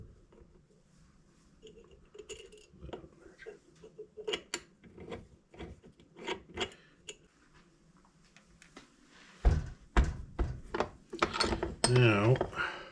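Metal clicks and ratcheting as a lock nut is tightened onto a column-to-transmission shifter adapter, a series of sharp, close taps and rasps with louder bursts near the end.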